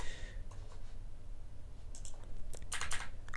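A few quick, faint clicks of typing on a computer keyboard, a short burst of keystrokes near the end under a low background hum.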